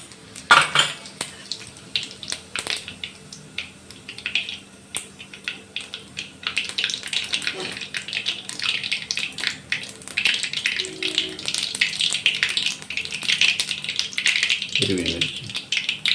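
Mustard seeds and cumin hit hot oil for kanda poha, bursting into a steady, crackling sizzle that builds partway through, with clinks of a pan and utensils in between.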